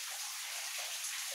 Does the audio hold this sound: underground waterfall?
yes